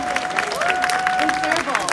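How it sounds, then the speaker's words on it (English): A festival crowd at the Colorado Renaissance Festival claps for a serval after its show, a dense wash of applause and chatter with a tonal voice or whistle running through it. "one final round of applause for Sheena"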